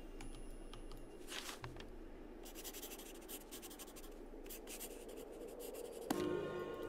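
Pen scratching across paper in the Star Stable video game as a letter is written, a steady soft scribbling with brief bursts of strokes over a quiet ambient background, ending with a short game chime.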